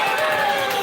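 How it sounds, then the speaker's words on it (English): Hockey crowd at a Kanata Blazers vs Seaway game erupting after goalie Maddie snags a 2-on-1 shot, a dense sustained roar of many voices filling the arena. "The crowd liked that one."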